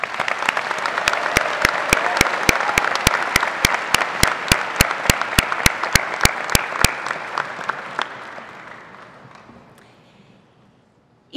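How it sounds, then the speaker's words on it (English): An audience claps loudly and steadily at a Kansas State University new student convocation. The applause carries sharp, regular hits and then fades out slowly. "I'd like us all to give ourselves a round of applause"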